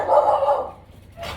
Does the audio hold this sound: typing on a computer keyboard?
no